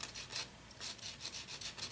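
Quick back-and-forth rasping strokes of hand sanding with a fine-to-coarse sanding block, close and rhythmic, about a handful of scrubs with short pauses between.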